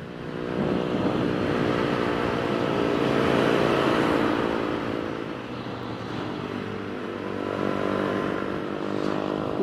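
A 2021 Suzuki Katana motorcycle ridden through corners at night, its engine droning continuously with a pitch that rises and falls as the throttle changes, mixed with wind rush and no voices.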